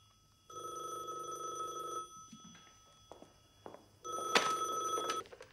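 A telephone bell rings in a film scene, two loud ringing bursts separated by a quieter stretch of room noise and a few small knocks.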